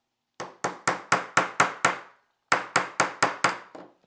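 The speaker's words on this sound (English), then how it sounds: "just hammer it in." Roll pin hammered into a Ruger RXM pistol grip frame: two bursts of sharp, evenly spaced metallic taps, seven strikes then a short pause and six more, close and clear with no talk.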